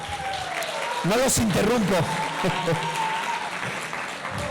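Church congregation applauding a departing missionary at an anniversary service, steady clapping throughout with a voice speaking over it.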